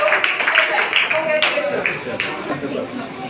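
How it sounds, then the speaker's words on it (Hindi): Children and adults at a poetry competition for kids at a Bihar children's centre give brief applause, a patter of clapping mixed with chatter and light laughter, moderately loud. "जोरदार तालियां से स्वागत कीजिए उनका"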